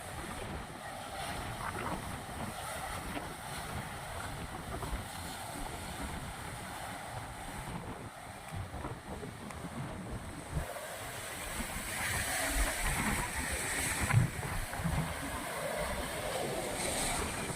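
Waves crash against a rocky seashore under steady wind, a continuous dense roar of surf with surges swelling louder toward the end, heard alone without talk.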